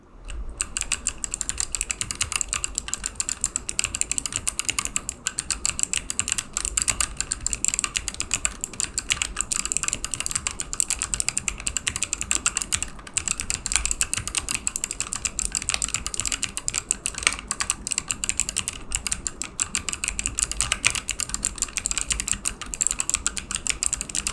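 Mechanical switches on a white ROG A2 gaming keyboard clatter in a steady, fast stream of close, crisp keystrokes for the whole stretch, with no talking.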